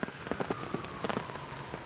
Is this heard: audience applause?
no